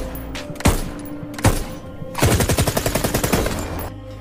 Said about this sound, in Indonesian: Sang jenderal langsung mencoba kemampuan senjata ciptaan Kalashnikov.